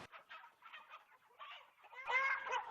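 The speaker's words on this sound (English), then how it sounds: "I hate these chickens." Cartoon chickens clucking in a series of short bursts that rise into a louder, more agitated squawk near the end, heard alone with no talking.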